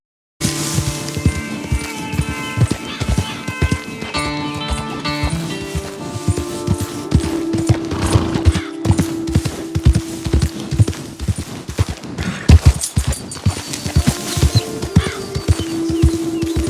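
Horse hooves clip-clopping steadily while riding near a cliff edge in the video game Red Dead Redemption 2, a close and loud continuous beat of hoofbeats with faint birdsong in the background.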